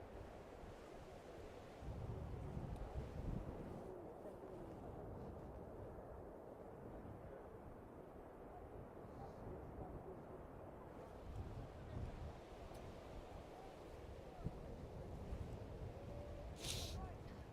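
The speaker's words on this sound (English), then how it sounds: "a big gust of wind coming across the field at the same time" Wind gusts across a baseball field during a game and buffets the microphone. A steady, dense roar swells slightly around the two-second mark and continues throughout, with low voices underneath.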